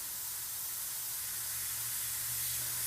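Airbrush spraying purple paint around flame embers on a car, a steady close continuous hiss of air and paint with no breaks.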